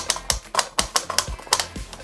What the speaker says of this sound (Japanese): そしたらあとはこのレバーをぐるぐるぐるってこんな感じ。